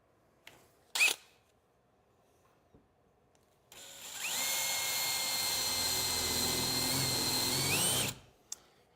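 Jigsaw cutting an octagonal hole in a van build: one short buzz, then a steady, loud, close whine of about four seconds that stops abruptly, with quiet gaps and light handling knocks around it.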